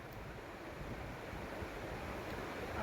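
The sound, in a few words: water gushing out of a farm pump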